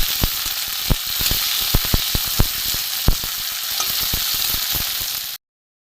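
Spices sizzle and crackle in hot oil in a pan for potato rolls, a continuous bright fry with sharp pops and spatters, and the sound stops abruptly just before the end.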